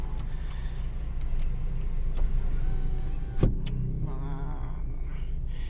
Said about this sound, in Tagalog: Ayan, power window na din yan